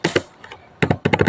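Keys clatter on a computer keyboard while a router configuration is entered in a network simulator, a few quick close taps, a short lull, then another cluster of keystrokes, with no voices.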